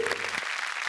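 Brief burst of dense audience applause for a stage actor, loud and close, ending abruptly within a second.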